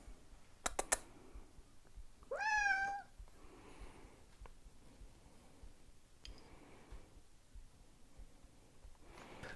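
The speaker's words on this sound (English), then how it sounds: "that's my cat crying" A pet cat indoors gives a single drawn-out, wavering meow near the start, followed by faint scattered clicks and quiet room noise.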